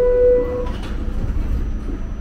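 A New York City subway N train rumbles low and steady with a brief tonal whine at the start, a close, continuous rolling noise with no voices.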